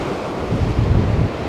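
Big ocean waves surge and break on the coast at Porthcawl, a steady roar of surf with wind buffeting the microphone, swelling louder in the second half with no voices.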